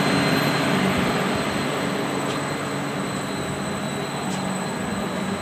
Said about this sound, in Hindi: मेन मोटर स्टार्ट हो चुकी है।